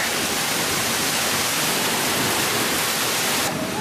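A loud, steady roar of rushing waterfall water at Disneyland Paris, heard from close by, continuous broadband noise throughout.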